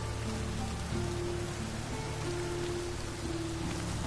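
Steady rain in a video game hisses and patters densely, a constant wash of drops with faint tonal hums underneath.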